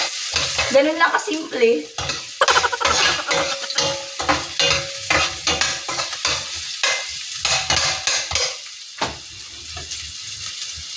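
Ginger sizzles loudly in a hot pan while being stir-fried for chicken curry, with rapid scraping strokes of a spatula against the pan and a steady frying hiss underneath; a voice speaks briefly.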